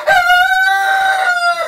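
A rooster crows once, a loud, drawn-out call held for nearly two seconds, close by and clear with no talking.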